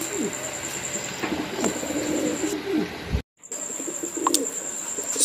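Big black German Long Face pigeons coo softly in a loft, low repeated throaty calls beneath a constant high background hum, with a brief dropout midway.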